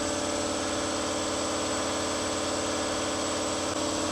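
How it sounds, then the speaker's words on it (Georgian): A Ducati motorcycle engine idles in a workshop during a gearbox replacement, producing a steady, continuous mechanical drone with an even vibrating hum and no speech over it. "ეს არის დუკატის ძრავი"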